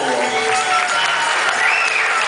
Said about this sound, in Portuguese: Aí uma salva de palmas pro casal